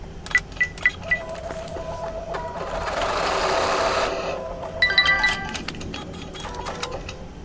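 An embroidery machine with a magnetic hoop stitches out a pieced quilt block in one steady whirring run of about a second, with clicks and mechanical tapping before and after.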